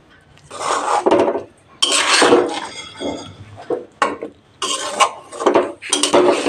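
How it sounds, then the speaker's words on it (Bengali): A metal spatula scrapes and clatters against a kadai while mixing marinated Neria fish, in repeated bursts of loud scraping separated by short pauses, close up. "খুন্তি দিয়ে আস্তে আস্তে মাখিয়ে নেব মাছ"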